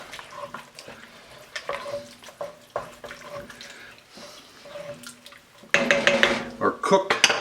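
Beans with their brine are stirred in a pot for cassoulet, giving wet sloshing and scraping with light clinks of utensil on pot, growing louder near the end, while someone talks over it.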